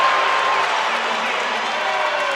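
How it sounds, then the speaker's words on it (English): A basketball arena crowd roars steadily after a lob dunk, a dense wash of cheering that stays loud for the whole moment while a commentator talks over it. "That brought the crowd to their feet."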